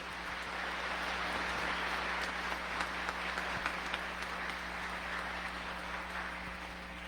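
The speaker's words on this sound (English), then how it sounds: "please join in a round of applause for Class 69, your new Kansas State Troopers" An audience at a Kansas Highway Patrol trooper graduation claps for the new class, a broad, sustained roar of many hands with a steady low hum underneath, even in loudness throughout.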